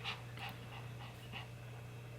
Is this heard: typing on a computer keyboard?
no